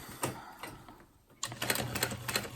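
A sewing machine stitches the Maisie handbag in short rapid bursts: two quick runs, a brief pause, then a longer stretch of close, rattling stitching.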